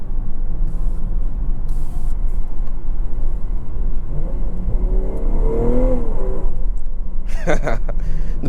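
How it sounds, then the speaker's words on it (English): BMW M340i Special Edition with a B58 engine and M Performance exhaust, a loud low drone rising through a revving sweep midway, then a burst of crackling burbles near the end, heard from inside the car. "all that M Performance exhaust sounds good"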